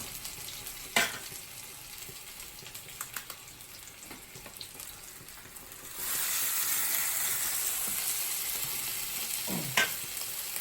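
Meatballs frying in oil in a pan with a few clatters and stirring knocks, then the sizzle swells louder and steadier partway through.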